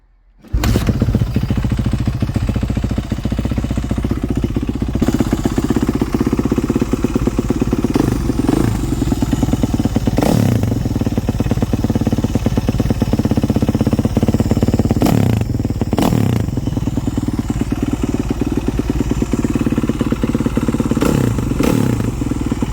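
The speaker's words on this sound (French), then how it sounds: "vous avez entendu la moto tourner" A motocross motorcycle engine starts and then idles loudly and steadily nearby, its rough rhythmic chugging punctuated by a few brief blips of revving.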